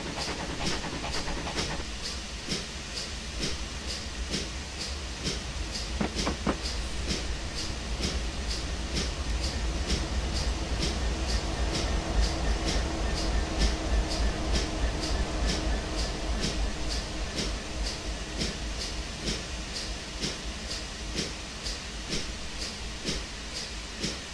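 A model train rolling along The Garden Railway in Train Simulator 2015, a steady rhythmic clicking of wheels over rail joints with a constant low rumble, moderately loud and unbroken throughout.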